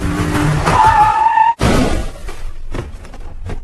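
A stolen motorcycle skids with a loud tyre squeal, then crashes at an intersection in a film scene. The impact comes in the middle of the clip, followed by a brief gap and rumbling, clattering aftermath.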